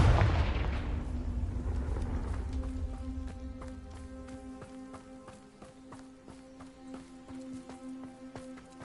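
In the Hogwarts Legacy video game, a Confringo blasting spell bursts with a loud, booming explosion that quickly fades into a lingering tonal hum dotted with faint rhythmic ticks.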